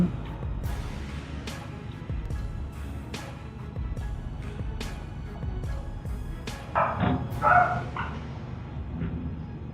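A small guard dog barks in sharp, repeated yaps over a steady background, a few louder near the end.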